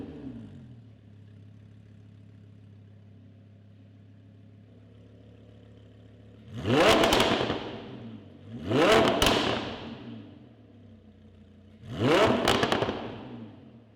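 A Lamborghini Huracan fitted with a custom exhaust idles with a low burble, then three loud, sharp revs ring out a couple of seconds apart, each rising and falling quickly, close by.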